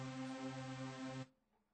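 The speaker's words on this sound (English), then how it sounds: "we reload that Hoover sound into the NNXT digital sampler" A buzzy Hoover synth patch played through the NNXT sampler in Reason holds one thick, bright sustained note for just over a second, then cuts off abruptly into near silence.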